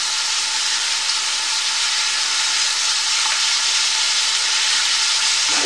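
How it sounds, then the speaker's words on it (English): Red onions sweating in a pan give a steady, close, loud sizzle and hiss that runs unbroken throughout with no talking. "I've got some onions sweating away in this pan here"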